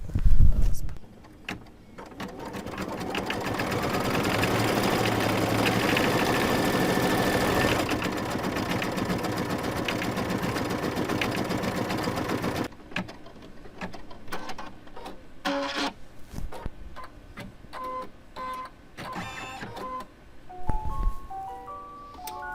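A Cricut Explore cutting machine slicing fabric, a sustained mechanical whirring and buzzing for about ten seconds after a brief start, then intermittent clicks, carriage movements and soft beeps as it finishes.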